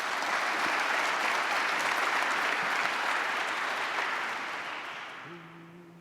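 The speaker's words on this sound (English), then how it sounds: "Let's give them a round of applause." Enthusiastic audience applause for school singers at an evening high school new parents meeting, a dense steady wash of clapping that fades in the last second as a voice begins to sing.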